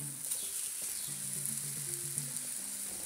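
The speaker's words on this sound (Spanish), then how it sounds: "este aceite vamos a aflojarlo al mínimo. Ponemos aquí los champiñones boca abajo." Mushrooms laid face down in olive oil sizzle steadily in a pan over low heat, a close, continuous crackling frying hiss with no talk.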